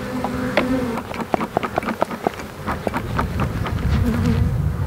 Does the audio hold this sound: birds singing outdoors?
no